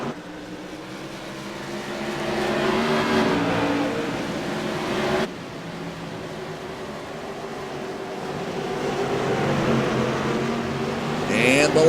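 Modified race cars roar around an oval at USA International Speedway, their engines droning and swelling as they pass, with a race commentator talking over the continuous engine noise.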